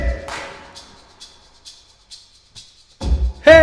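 A choir's body percussion in rehearsal: repeated stamp-stamp-clap patterns in sharp, evenly spaced hits, ending in a louder burst of stamping and a shouted call.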